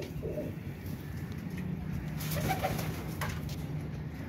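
Teddy breed pigeons cooing in a loft, low soft coos repeating steadily against a constant background hum, with a brief louder stretch midway.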